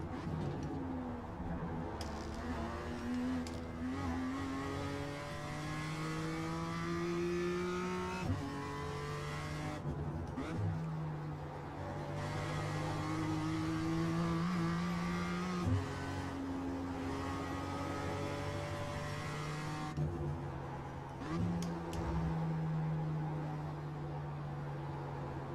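BMW M2 race car engine in iRacing at Charlotte, revving loudly and steadily with repeated upshifts and throttle lifts, a continuous near drone of rising and dropping pitch throughout, no talking.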